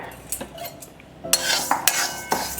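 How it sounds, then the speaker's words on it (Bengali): Mung dal being dry-roasted in a hot wok while a metal spoon keeps it moving. Scraping, rattling stirs run alongside a faint gritty rustle of the grains, growing louder and busier in the second half. "মুগ ডালটা ভেজে নেব অনবরত নাড়তে হবে"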